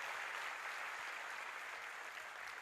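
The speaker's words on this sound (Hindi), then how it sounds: "एक बार जोरदार ताली बजा के पूज्य महाराज जी को धन्यवाद दो।" Sustained applause from the audience at a saints' gathering in Pimpalgaon, Nanded, honoring the Maharaj: dense, steady clapping filling the space at even loudness throughout, with no voices over it.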